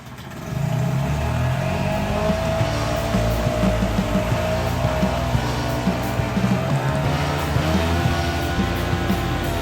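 A 5 HP outboard boat motor runs steadily at close range after a brief start, a continuous droning engine note with a slightly rough, uneven texture and no talk over it.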